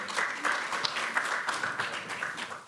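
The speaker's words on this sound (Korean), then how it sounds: "뜨거운 박수 보내주시기 바라겠습니다" Applause from a party assembly hall as the newly elected Democratic Party floor leader is declared and presented flowers, a dense, steady patter of many hands at moderate distance throughout.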